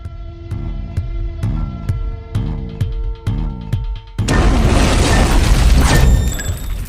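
A bomb blast in a crime drama: after a stretch of rhythmic tonal music, a sudden loud broadband explosion erupts and keeps roaring for a few seconds before easing off.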